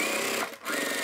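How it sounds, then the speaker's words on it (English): Sewing machine stitching shut the small turning opening of a fabric bag with boxed corners, a loud close motor whir with rapid needle chatter that briefly dips mid-run before resuming. "We can sew this little opening shut."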